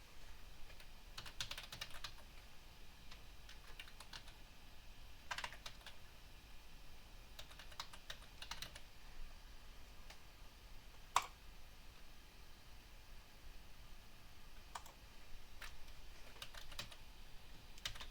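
Password being typed on a computer keyboard, with light scattered clicks in short bursts, quiet and close, with no talking.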